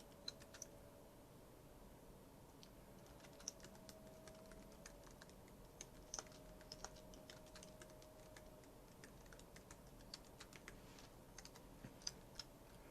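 Close, quiet clicks of a computer keyboard as code is typed, a steady patter of keystrokes in uneven bursts that runs the whole way through over a low room hum.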